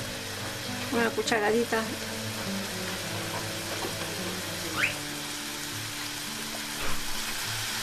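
Teriyaki sauce sizzles loudly in a pan of tofu and mushrooms, a constant close frying hiss beneath a brief spoken phrase and a few clinks.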